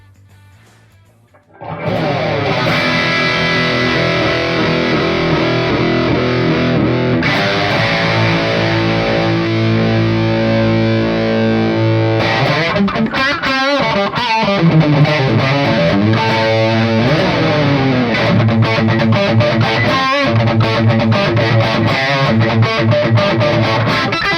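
A heavily distorted electric guitar starts after a brief quiet moment, sustaining loud crunchy chords and then busier riffing, with no one talking.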